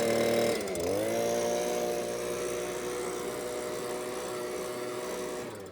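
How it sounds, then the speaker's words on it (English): Air blasting out the radiator of a stump grinder, a loud, steady, close-up roar with a droning motor hum that holds for several seconds before cutting off. "Blow out the radiator."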